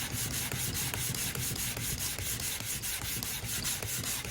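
A leather strop being rubbed with medium pressure on a dirty sheet of 220 grit sandpaper: a steady, close, continuous scratchy rasp with regular back-and-forth strokes, heard alone.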